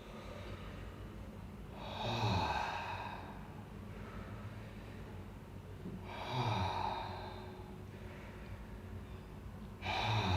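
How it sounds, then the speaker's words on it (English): Slow, deep belly breaths drawn in and out through an open mouth during a somatic calming exercise, each long audible rush of air rising and fading at a steady pace, close and alone. "So it's nice, deep, continuous breathing."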